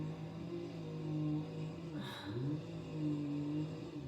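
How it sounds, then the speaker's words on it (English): A neighbor's motorbike engine revving at a distance, the faint pitch rising and falling in a couple of throttle swells against quiet background noise. "That's him revving his bike."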